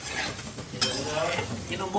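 Oil sizzles and crackles in a pan as tempering is added for frying potatoes, with steady stirring and utensil clinks, a brief louder crackle bursting up near the middle, heard close with a few quiet words spoken.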